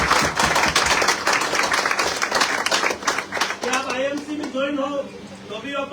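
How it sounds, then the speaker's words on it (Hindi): Hearty applause from an audience at a network marketing business meeting for the company management, loud dense clapping that thins out after a few seconds as a voice takes over. "एक बार जोरदार ताली होनी चाहिए मैनेजमेंट के लिए"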